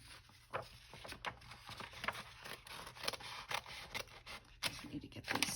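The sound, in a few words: cutting paper with scissors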